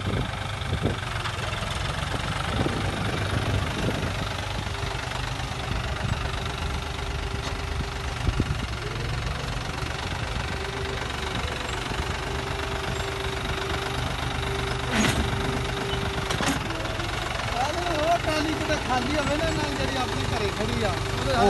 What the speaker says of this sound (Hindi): एक ट्रैक्टर होर आ गए